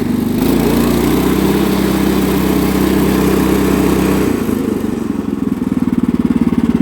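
A small putt-putt engine roars loud and close at full throttle, a steady buzzing drone that drops to a slower, pulsing chug for the last couple of seconds.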